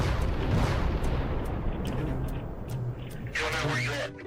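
A deep, sustained rumbling roar, like the aftermath of a large explosion heard from a distance, with broadband noise and occasional sharper bursts.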